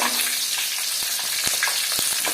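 Chili and garlic sizzle steadily in hot oil for a drumstick curry, a constant bright crackle with a few soft stirring taps from a utensil.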